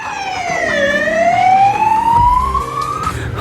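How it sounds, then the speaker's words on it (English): A loud ambulance siren wails nearby, its pitch sweeping down then slowly rising again over road rumble. "Oh no, there's an ambulance there too."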